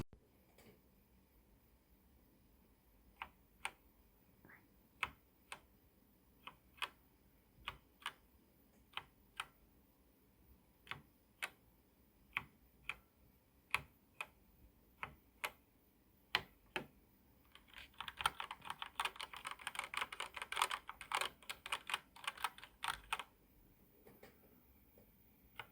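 Keys on a budget Tesko GK-8128 gaming keyboard give sparse, crisp single clicks at uneven intervals, then a dense burst of rapid typing before slowing to scattered clicks again. The sound is close and clear, with no talking.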